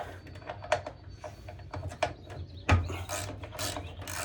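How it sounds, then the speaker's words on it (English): Socket loosening the 12mm nut on a Honda HRX217 mower wheel, heard as quiet scattered ratcheting and scraping clicks with one sharper metallic knock partway through. "use your socket. Take the 12mm off."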